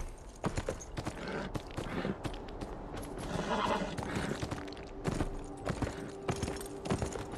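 A horse whinnies and its hooves clop in a Beyond Two Souls video game scene, with a series of sharp hoof strikes and a drawn-out neigh in the middle, at moderate level with no speech.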